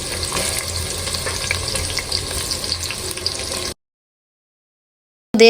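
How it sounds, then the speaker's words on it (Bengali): Washed meat sizzles and spits in a pan as braising begins: a steady, close, loud crackling hiss that cuts off abruptly partway, then briefly returns, with no voices. "মাংসটা ধুয়ে ভালো করে পরিষ্কার করে তারপর কষানোর জন্য বসিয়ে দিলাম।"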